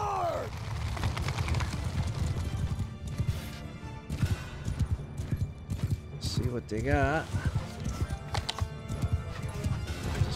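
Cavalry horses galloping in Bannerlord, a medieval battle game, with steady clip-clop hoofbeats and a whinny amid battle noise, loud and continuous under shouting voices.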